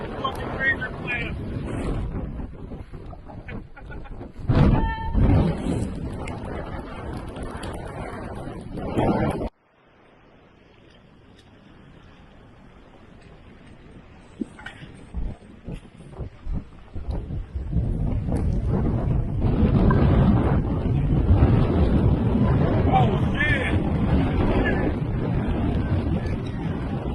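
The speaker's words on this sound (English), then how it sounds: "I've never dealt with this type of wind before" Strong, gusting high wind roars and buffets the microphone on an ocean beach during razor clamming, loud and rumbling throughout apart from a brief lull near the middle, with a person talking over it.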